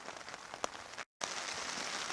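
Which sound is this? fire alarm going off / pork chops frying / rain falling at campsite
rain falling at campsite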